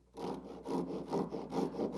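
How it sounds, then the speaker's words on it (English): Japanese pull saw cutting into the end grain of scrap wood, starting at a corner: rhythmic, close rasping strokes, about four or five pulls in steady succession with brief gaps between them. "I'm going to use a Japanese pull saw here to do it."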